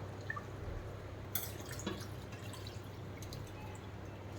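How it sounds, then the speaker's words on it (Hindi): A glass of water is poured into a pot of Andhra-style mutton paya soup over spiced oil, a quiet, brief splash and trickle in the middle of an otherwise soft kitchen background. "1 गिलास पानी वो डाल देंगे।"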